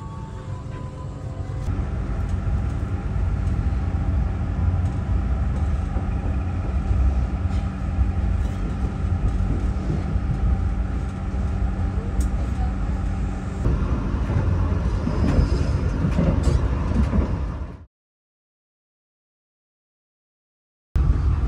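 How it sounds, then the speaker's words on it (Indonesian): A train pulls away from Tegal station, a steady low rumble and mechanical drone holding for about eighteen seconds before cutting off abruptly into silence. "Ini keretanya udah berangkat tuh."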